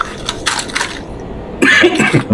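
A few short coughs, close and fairly loud, with a quieter stretch of cough-like bursts before them, during a birthday meal in a cemetery.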